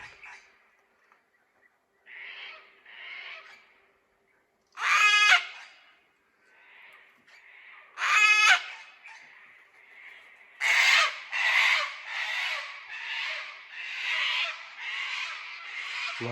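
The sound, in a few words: harsh bird calls like a rusty hinge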